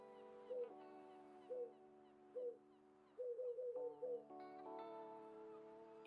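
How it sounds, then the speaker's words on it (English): A bird calls in the video game Tiny Bookshop, giving short hooting chirps that come three times spaced apart, then a quick run of several, over a soft, steady musical background with no talking. "what kind of a sound is that bird making?"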